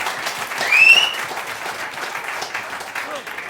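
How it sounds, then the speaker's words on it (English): A small audience at a talk event claps in sustained, moderately loud applause, with a brief whistle cutting through near the start and voices murmuring underneath. "Round of applause, please."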